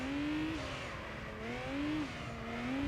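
A race car in Gran Turismo 3 drives hard, its engine droning steadily with pitch rising and dropping as throttle shifts, and a faint tyre slide hiss underneath, loud and continuous with no talking.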